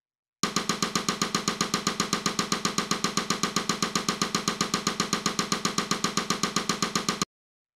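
An Ultrabeat rim sound plays a steady 16th-note pattern, dry sharp clicky hits repeating evenly and close for about seven seconds, alone with no voices.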